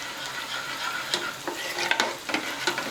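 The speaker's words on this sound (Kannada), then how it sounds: "ನಾ ಇಲ್ಲೇ ಸ್ಪೂನ್ಲೇ ಮ್ಯಾಶ್ ಮಾಡ್ತೀನಿ." A spoon mashes cooked dal with raw mango in a pot for a mango lentil saaru. It makes soft, wet stirring and squelching with a few sharper scrapes and clinks, close and without talk.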